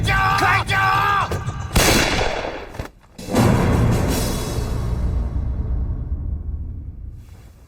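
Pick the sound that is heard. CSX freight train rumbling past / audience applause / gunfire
gunfire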